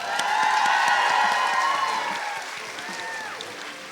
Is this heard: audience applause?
yes